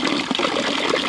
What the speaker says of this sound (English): Here, natural mountain water, and they have a ladle so I can drink with.